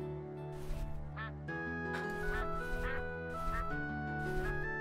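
Ducks quack repeatedly in short bursts over a steady bed of game music in the puzzle game Looks Good, fairly close and clear.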